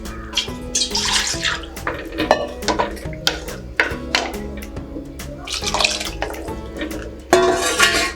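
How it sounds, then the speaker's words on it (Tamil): Water splashes and pours into a metal pot while cooking ven pongal, with clinking of cookware and steady running water throughout, fairly close. "இப்போ நம்ம தண்ணி சேர்த்துக்கலாம்."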